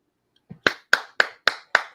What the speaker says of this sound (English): I'm clapping right now.